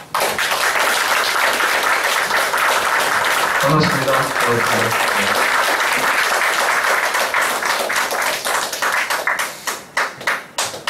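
An audience claps loudly to welcome a politician, the applause steady for most of the stretch before thinning into scattered claps, with a brief greeting spoken partway through.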